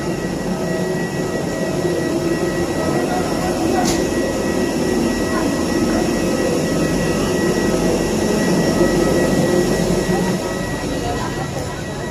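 Steady, loud cabin hum inside an airplane parked at the airport, a constant engine and ventilation drone with faint clicks and no clear speech.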